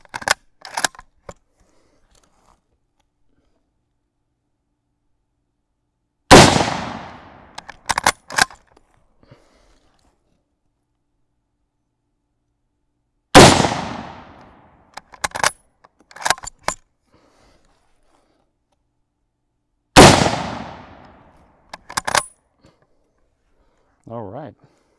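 Military surplus rifles firing at an outdoor range: three sharp, loud single shots spaced several seconds apart, each with a ringing decaying tail, mixed with clicks and handling noises of bolts and gear between them.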